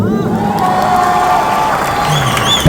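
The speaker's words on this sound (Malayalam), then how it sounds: "ഒരു പ്രാവശ്യം കൂടെ ആ കയ്യടി തരുമോ?" A large crowd at a film promotion event cheers, whoops and shouts loudly and continuously, with scattered clapping mixed into the roar and excited voices rising near the end.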